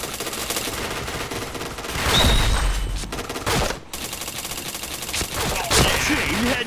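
Rapid, loud automatic gunfire and shots in the first-person shooter game Point Blank come in bursts, with a heavy explosion-like thump partway through and a voice briefly heard between volleys.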